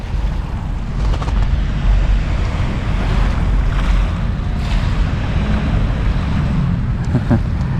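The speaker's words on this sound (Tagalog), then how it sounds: "Malakas ang hampas ng alon." Strong waves wash and crash on the Manila Bay shore at high tide, a loud continuous surf roar with rough wind buffeting the microphone and no speech.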